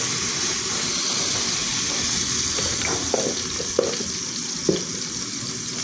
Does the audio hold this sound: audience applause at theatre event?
no